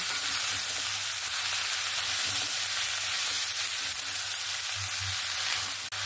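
Malabar spinach with potato frying in a pan while being mixed, a steady close sizzle with a few soft stirring thumps underneath, no speech.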